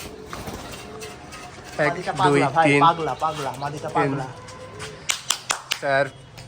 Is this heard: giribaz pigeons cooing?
yes